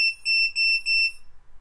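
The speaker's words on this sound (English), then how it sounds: "it is a loud beeper" Loud, piercing electronic beeper on a KingKong ET100 brushless indoor racing drone, sounding in a rapid pattern of about seven short beeps in uneven pairs, close and alone before falling silent.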